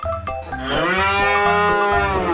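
A cattle sound effect for a toy farm diorama gives one long, loud, drawn-out moo that swells and holds, with light background music underneath.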